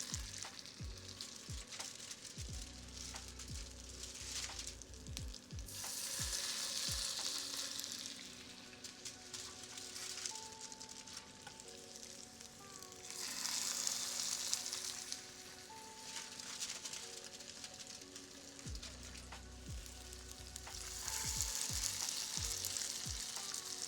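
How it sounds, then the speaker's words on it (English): Crab cakes fry in olive oil in a skillet with a soft, steady sizzle that swells louder at intervals, along with a few faint clicks and knocks. It is quiet throughout, with no talking. "I'm going to add in some olive oil here. Begin adding in your crab cakes here."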